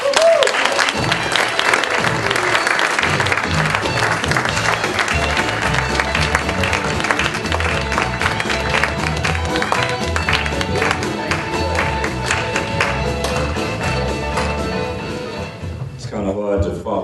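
An audience applauds steadily to welcome a speaker onto the stage, a dense, loud wash of clapping sustained for about fifteen seconds before tapering off at the end.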